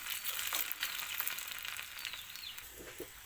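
Cumin seeds and garlic sizzling in hot oil for a tempering for lentil dal with fenugreek greens, a close, steady crackling hiss with small pops.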